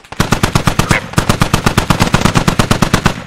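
Sustained automatic gunfire in the infantry shooter game Squad, a loud, close, rapid and steady stream of shots firing without pause for the whole stretch, with no talking over it.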